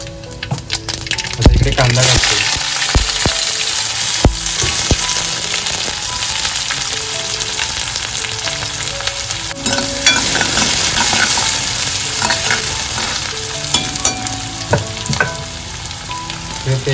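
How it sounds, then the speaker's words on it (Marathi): Mustard seeds hit hot oil in a kadhai with a loud, dense, continuous sizzle and crackle, a few sharp pops and stirring clatters near the start, all close and sustained. "कढईमध्ये तेल घालून घेतलेलं आहे आणि तेल पण मस्तच आपल्या ह्याच्यामध्ये राई घालून घेतले"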